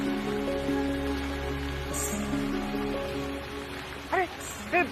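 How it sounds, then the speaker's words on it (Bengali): Rain pours in a constant soft hiss under background music, and a voice speaks briefly near the end. "আরে বৃষ্টি এলো কি করে?"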